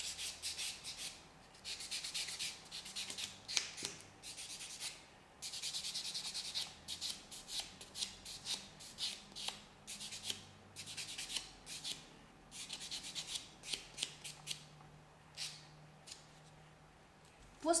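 Repeated rhythmic rubbing strokes of a nail buffer on natural fingernails, bursts of soft scratchy friction in quick series with brief pauses, close and fairly quiet.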